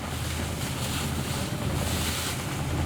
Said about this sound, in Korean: 파도가 심상치 않습니다.